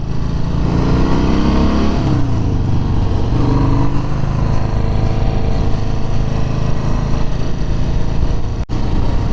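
A 2018 Harley-Davidson Sport Glide cruiser with a rigid-mounted counterbalanced engine pulls away on a road ride, its loud, close engine rumble rising steadily as it accelerates with no talk.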